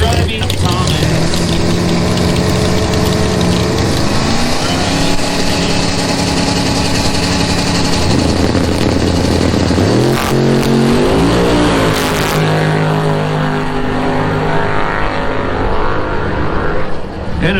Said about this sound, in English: In the 86, Fox Body, the 588 Big Block, nitrous injected behind the wheel